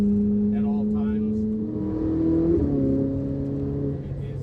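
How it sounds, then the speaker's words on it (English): A 2011 Ferrari 458 Italia with open exhaust drones steadily while driving in a manual race mode, its engine tone rising and shifting midway, with a voice talking over it early on. "the sound is open exhaust at all times"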